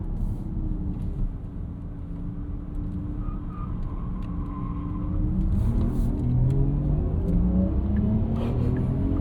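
A 2025 Porsche Macan 4S Electric, a 509 hp SUV, accelerates through a corner with a low rumble and a rising electric-motor whine, heard from inside the cabin as the pitch climbs steadily.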